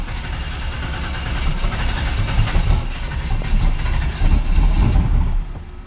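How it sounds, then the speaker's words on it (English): Ford Mustang running on E85 fuel cranks and struggles to fire in cold weather, a loud, rough, uneven low engine rumble that swells and stutters throughout. "E85 naturally when it's this cold doesn't like to start"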